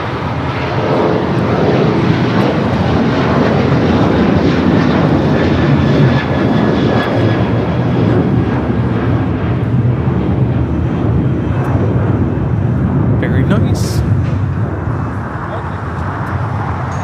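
A jet airliner at LAX makes a loud, steady broadband roar that fills the whole stretch and eases slightly near the end, with faint voices in the background.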